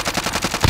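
Gunfire from a video game as a player shoots through a wall during a battle-royale match: rapid, rhythmic automatic bursts fire steadily, loud and close, ending with a heavier final shot.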